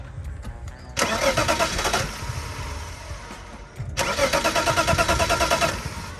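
A BMW E36 M3 that has sat abandoned cranks loudly up close in two separate bursts, each a rapid rhythmic churning of about a second or two, and a low idle-like rumble carries on between them.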